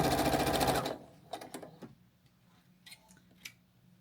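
A sewing machine runs a fabric scrap through with a steady, loud whirring hum for about a second, then stops. Faint clicks and handling taps follow at lower volume.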